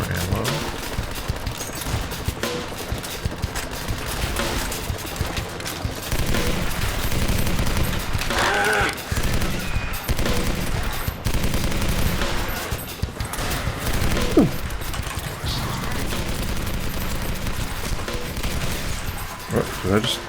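Light machine gun fire in a first-person video game, sustained rapid bursts loud and close throughout, with brief pauses between volleys.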